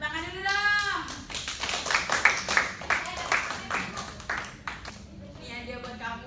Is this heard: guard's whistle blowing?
no